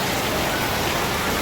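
Heavy rain pouring down, a dense, loud, steady hiss of drops on surfaces, close and continuous without any voices.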